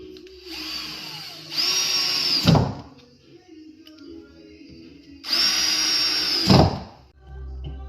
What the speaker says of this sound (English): So we are going to screw them as well. So we'll glue and screw.